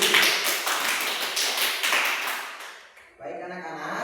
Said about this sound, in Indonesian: tepuk tangan untuk Nanti.